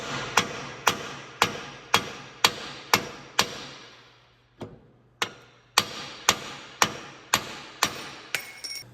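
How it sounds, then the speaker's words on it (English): A hammer taps sharply on the front strut of a 2014 Volkswagen Tiguan 2.0L AWD, a steady run of about ten ringing metallic blows, close and loud, with a short pause midway before the strikes resume. "we should be able to just give this a couple taps"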